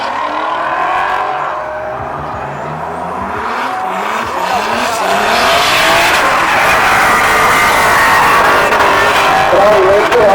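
Drift race cars at the SDC Drift Čačak 2018 event rev and skid with sustained tire squeal, the engine roar and screech building louder over ten seconds, while a commentator talks over it.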